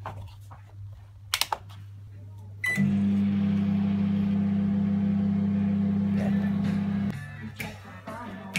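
Microwave oven heating a big bowl of cornflakes, a steady loud hum running for about four seconds after a few clicks and beeps, over a low background drone, with a voice heard around it.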